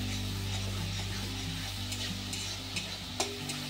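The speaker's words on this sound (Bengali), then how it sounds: "মশলাটা ভালো করে কষিয়ে নেব যতক্ষণ না আদার গন্ধটা দূর হয়।" Spice paste of ginger and green chili, with cumin powder and salt, fries in hot oil in a pan, giving a steady close sizzle and crackle with a few sharper pops and some stirring scrapes.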